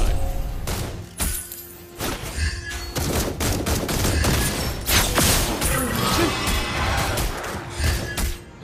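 Granger firing bullets in the Mobile Legends video game, a run of sharp loud gunshots in irregular bursts with shattering impacts and thuds mixed in, close and punchy throughout.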